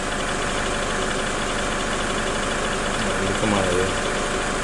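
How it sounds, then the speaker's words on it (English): The diesel engine of a 2006 Toyota Hilux with a loss of power and high fuel and oil consumption idles in a steady, slightly knocking drone. Someone speaks briefly over it near the end. "so we got the vehicle running again"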